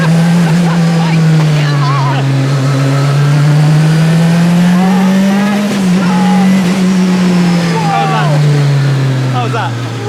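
Street-legal Group B Lancia Delta S4, turbocharged and supercharged, pulling hard with a loud droning engine note that rises and falls as it accelerates, heard from inside the car with voices over it.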